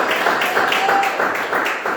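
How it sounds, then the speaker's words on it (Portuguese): A church congregation claps for Jesus in a loud, steady rhythm of pulsing beats that keeps going without a break. "palmas para o Senhor Jesus."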